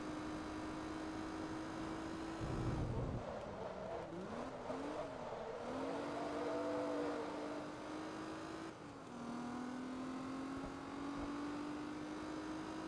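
Lancia engine revving in Forza Motorsport 2, a steady loud drone that dips and climbs through gear changes, with a brief rumbling burst near the start and no talk.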